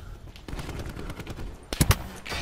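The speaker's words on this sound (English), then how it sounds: "Oh my god, where am I getting shot at from?" Gunfire in the video game Call of Duty Black Ops 4: faint scattered game noise, then a couple of sharp, loud shots close together near the end.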